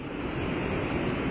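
Hurricane Zeta's wind roars in a steady broadband rush against the microphone, loud and unbroken for about a second and a half, with no voices heard.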